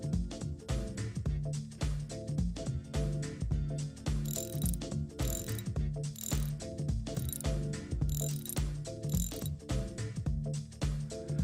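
Ratcheting hand tool pulling a rubber caliper guide pin boot into its casting, a close, steady run of repeated mechanical clicks throughout.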